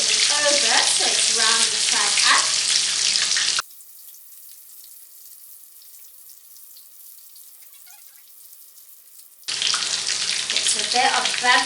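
Roast potatoes sizzle and bubble loudly in hot fat, a dense crackling hiss up close that cuts out to near silence midway and then returns just as strong.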